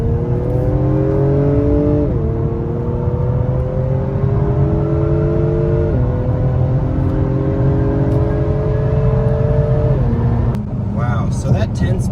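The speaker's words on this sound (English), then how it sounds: "the engine sounds good, it sounds throaty. I can definitely hear the turbo kind of really gulping in air" Inside an Acura TLX Type S, the turbocharged engine pulls hard under highway acceleration, its rising drone stepping down sharply at each quick shift of the 10-speed transmission, with a steady low rumble throughout.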